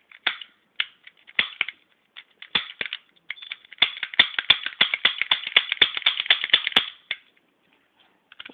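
A toy cap gun muffled with a paper towel fires a rapid series of sharp dry cracks and snaps, sparse at first and then dense and fast, sounding close and clicky with no talk.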